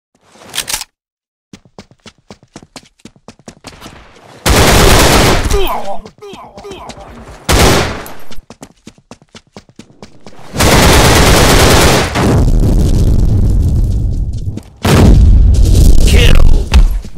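Heavy gunfire in a shooter video game comes in bursts: sharp single shots, then several loud sustained automatic volleys with booming impacts, separated by short gaps of quiet.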